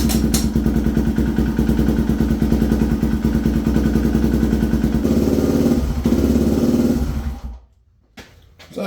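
A Honda XR250 motorcycle engine runs after an oil change. It idles steadily with a loud, close, even thumping putter, then shuts off near the end and goes quiet before a brief restart.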